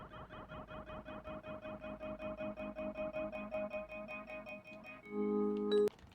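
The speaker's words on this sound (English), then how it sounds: "we've got a delay effect gradually coming in as well, and then it pans quite quickly from left to right" A song made in Cubase in which a delay effect on a rhythmic synth line fades in and sweeps quickly left to right, giving fast evenly spaced pulses, then a sustained chord swells and cuts off.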